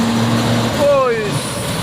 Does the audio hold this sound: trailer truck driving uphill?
yes